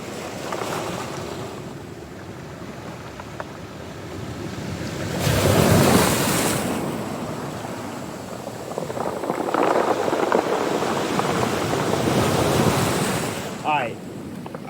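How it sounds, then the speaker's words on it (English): Ocean waves surging in and pulling back over a rocky shoreline in Maui, with rocks knocking and clattering together; a steady close wash swells in two louder rushes, with wind noise on the microphone. "as the waves come in, as the waves go out, the rocks crash together a little bit, and so it makes a cool sound."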